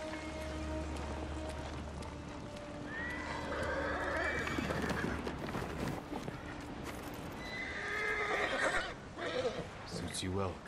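An armored horse in the video game Ghost of Tsushima neighs in drawn-out whinnies with hooves clip-clopping, heard against a rainy backdrop and alongside a voice.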